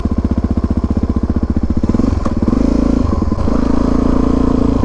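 Suzuki DR-Z dirt bike engine during a stunt lot ride, loud and close, chugging at a steady low rhythm in third gear around 20 mph, then a brief clatter before the engine note rises and holds.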